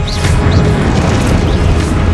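A Confringo fire-blast spell bursts in Hogwarts Legacy, giving loud booming impacts under a dense, continuous din of combat, with no talking.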